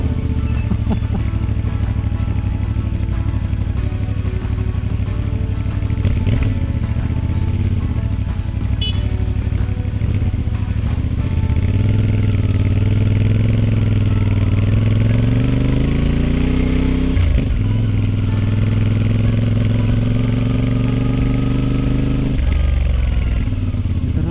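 A big motorcycle engine runs loud and close on a mountain road in the Cordillera, a continuous throaty drone that rises and falls in pitch as it revs, with occasional rattles.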